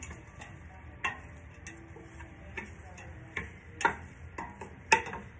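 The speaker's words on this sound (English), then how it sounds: "one small onion that I'm going to saute" Small onion sautéing in avocado oil for a butternut squash soup, a quiet, low sizzle with a handful of sharp utensil clicks and taps against the pan, spaced about a second apart.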